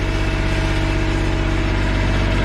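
A firewood processor's engine idles low and steady, a continuous mid-to-low droning hum with a faint harmonic whine, close and constant throughout with no voices.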